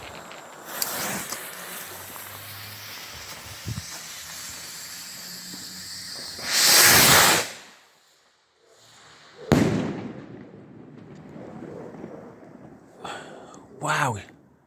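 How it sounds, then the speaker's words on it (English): A Red Thunder firework from Big Star Fireworks goes off on a UK bonfire night, with a fizzing hiss, then a loud roaring burst and a sharp crack, followed by fainter crackles. Voices are audible in the background. "The red thunder from Big Star Fireworks."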